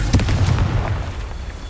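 A Confringo fire spell detonates in Hogwarts Legacy, a deep booming explosion with a rumbling low end that rolls on and fades slowly, with no talk over it.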